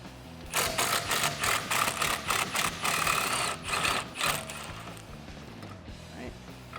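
Ratcheting socket wrench backing off 13 mm sway bar bolts on a Mustang rear suspension, a fast run of clicking ratchet strokes in two bursts, close and clear, then fading.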